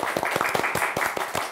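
An audience claps in a quick, steady patter of many hands, close and fairly loud, with no voices over it.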